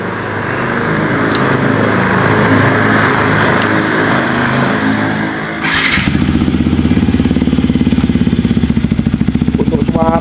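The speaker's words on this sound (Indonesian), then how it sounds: "mungkin suara saya tunjukkan sedikit suara knalpot saya yang tadi saya sebutkan" A motorcycle fitted with a Norifumi Rocket 4 exhaust, idling with a loud throaty rumble close by, dipping briefly, then revving up into a rapid, rough, pulsing burble.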